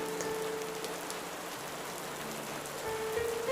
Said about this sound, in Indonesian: hujan yang cukup lebat.